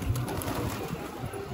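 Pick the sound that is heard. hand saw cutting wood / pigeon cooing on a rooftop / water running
pigeon cooing on a rooftop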